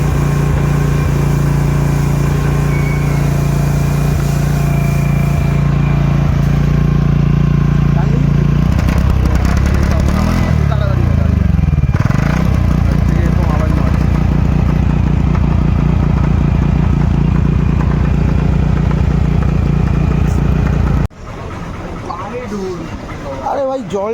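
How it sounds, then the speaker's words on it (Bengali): A TVS NTORQ scooter engine runs roughly with a steady, loud drone, shifts in pitch partway through, then drops abruptly to a quieter, uneven idle near the end. "গাড়ির থেকে এখন এরকম আওয়াজ মারছে ইঞ্জিন।"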